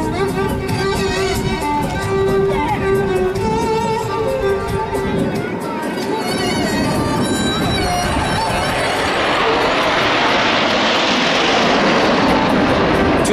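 Saudi Hawks jet aircraft flying in formation at an air show, a loud continuous engine roar that swells into a broad rushing noise over a crowd, with voices faintly under it.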